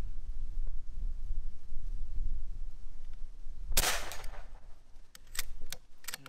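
A single sharp crack from an AEA HP Max .30 caliber air rifle firing outdoors at a target, followed by a few faint clicks, with light wind noise around it.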